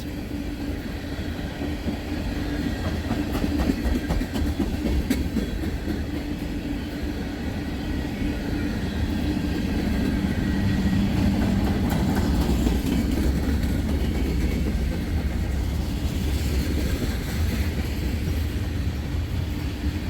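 A train rolls past for the full stretch, its cars giving a loud, steady rumble with faint rhythmic clatter and no voices.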